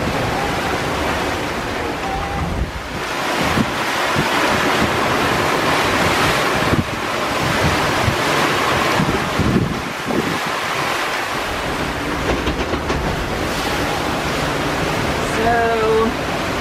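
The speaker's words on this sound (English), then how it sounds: "waves are a little big now." Big Atlantic Ocean waves surge and roll continuously around a boat, with heavy wind buffeting the microphone and a faint tonal whistle near the end.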